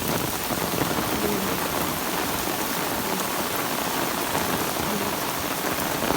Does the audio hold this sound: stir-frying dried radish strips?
no